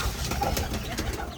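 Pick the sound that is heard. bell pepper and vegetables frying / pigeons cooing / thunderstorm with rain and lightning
pigeons cooing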